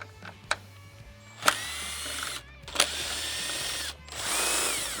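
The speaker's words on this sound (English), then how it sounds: "we have 3 screws and they'll take a 10mm socket" Power tool driving a 10mm socket to remove headlight screws on a Jeep JL/JT, heard as several short close whirring bursts with brief ratcheting clicks between them.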